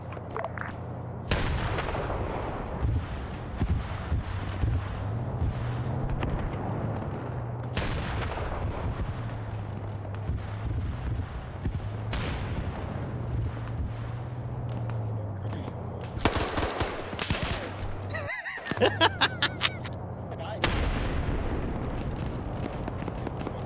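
Heavy explosive booms from a Mark 19 grenade launcher and other gunfire in the Arma 3 combat game, repeated thuds and blasts rolling across a long stretch with people talking throughout.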